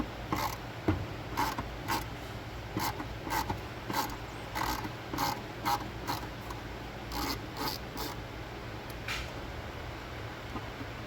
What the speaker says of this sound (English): Got two little Torx head screws down here.